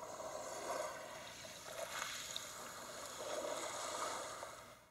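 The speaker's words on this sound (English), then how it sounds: "This one is the beach, or the sound of waves and the shore slowly crashing along rocks." Beach waves sleep sound from a Xiaomi AI smart alarm clock's speaker, a quiet, soft wash of surf over rocks swelling and receding in gentle surges, alone without talk.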